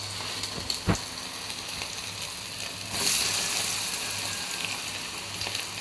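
Chicken pieces for KFC-style crispy chicken hiss and crackle in hot oil, a steady close sizzle that surges louder as another piece drops in, with a few sharp clatters.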